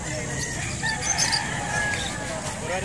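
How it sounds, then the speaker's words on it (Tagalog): A rooster crows in a busy outdoor setting, its call rising briefly over steady background noise and faint chatter. "O yung bantam mong manok."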